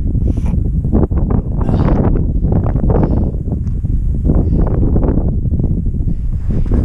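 Cold wind blowing across the microphone during a mountain bike ride, a loud, gusty, uneven roar that buffets continuously and close.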